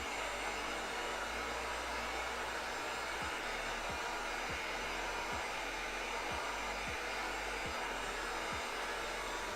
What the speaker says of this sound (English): So heat treating your foam will actually cause the pores to close up slightly, which is good.